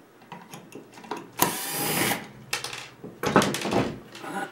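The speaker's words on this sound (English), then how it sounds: "So I'm just going to take my #1 square drive bit. I'm going to remove those 2 small screws." A power driver with a #1 square drive bit backs out two small screws on a Jobe Topaz and Megaflow watersport part, making two close whirring bursts of a few seconds each with light handling noise around them.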